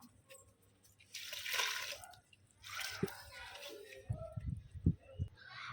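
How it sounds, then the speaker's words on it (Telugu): Flower plants being watered give a few splashes and drips of water, loudest near the end, with a voice talking over part of it. "మన పూల మొక్కలన్నిటికీ కూడా వాటరింగ్ చేసి కలుస్తాను మీతో"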